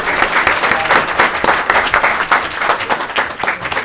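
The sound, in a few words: audience applause for the panelists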